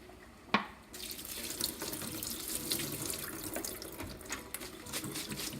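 Running tap of distilled water pouring into a sink for rinsing while making rose water, a steady broadband rush that starts after a brief clink and continues alone throughout.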